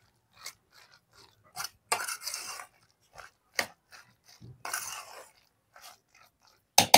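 Spinach leaves being worked by hand into a besan gram flour batter for palak pakoda give scattered, close, wet crunching and squelching bursts with quiet gaps between them.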